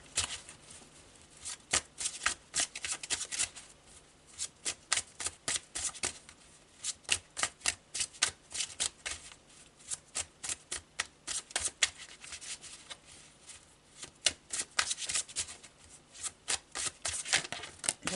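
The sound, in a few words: shuffling Marseille tarot cards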